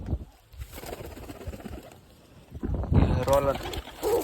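Fancy pigeons at a loft give soft cooing and fluttering, mixed with someone talking nearby and some handling noise, with a louder burst of activity toward the end.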